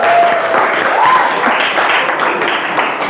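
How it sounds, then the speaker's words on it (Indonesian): A dense, loud round of audience applause fills the space evenly from start to finish, a continuous rush of many hands clapping close by with a faint tone passing briefly underneath. "tepuk tangan dong"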